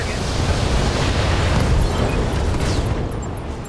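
Weapons fire and a roaring explosion tear apart a battle mech in the BattleTech game, a loud, dense, sustained rumble that thins out toward the end.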